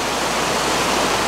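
A river in British Columbia rushes steadily beside a rocky spot, a dense broadband wash with no break, near and fairly loud, with no talking.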